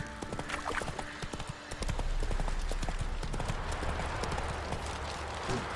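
A horse galloping in The Witcher 3 video game, with rapid rhythmic hoofbeats drumming steadily and close up over a low rumbling game background.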